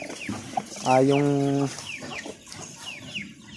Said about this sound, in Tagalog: So ayan na guys yung lahat ng mga sisiyo ko dito.